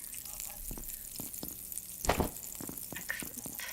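Food frying in a frying pan in the video game Abiotic Factor, a steady crackling sizzle with scattered sharp pops and a louder burst midway, heard alone without talk.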